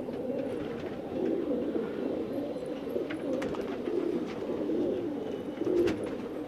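Fancy pigeons coo in soft, repeated rolling phrases, several birds overlapping close by, with a steady murmur of cooing and faint background rustle but no voices.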